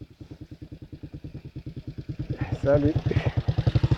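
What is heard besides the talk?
motorcycle passing by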